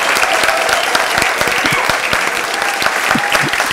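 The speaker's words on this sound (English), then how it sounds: "I want to hear a massive Startup Grind greeting for Lena Apler" Conference audience at a Startup Grind event in Gothenburg applauding a speaker welcomed on stage, with dense, steady clapping sustained throughout and some crowd noise underneath.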